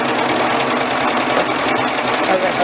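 A sewing machine runs continuously, stitching an elastic waistband with a steady, close mechanical whir that stays loud throughout.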